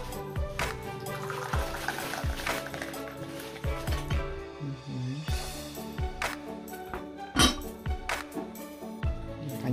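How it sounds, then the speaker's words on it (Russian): Tea is poured at a home Christmas table, with liquid splashing into a cup among clinking dishes and cutlery. Voices chat quietly in Russian underneath. "Давай чай, наливай."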